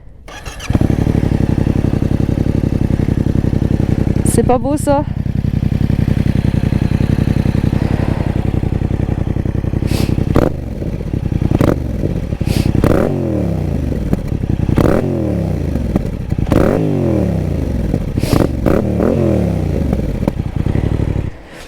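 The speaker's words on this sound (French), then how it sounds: "J'ai une autre moto et je vais vous faire écouter ça quand même." A motorcycle engine starts up close, settles into a rough idle, then is revved repeatedly in sharp rising bursts, loud and alone, with one brief spoken remark.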